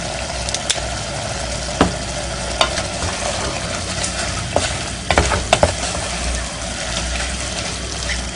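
Chili meat browns in a pot with a loud, steady sizzle, while a spoon stirs and scrapes, knocking against the pot in scattered sharp clicks.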